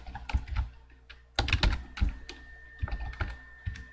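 Fingers tap on a computer keyboard in short irregular bursts of clicks, fairly close and quiet, with brief pauses between keystrokes.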